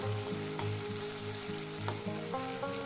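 Spice paste sizzles steadily as it is fried in a pan for a spicy onion fish curry, a constant close hiss with steady droning tonal notes running through it.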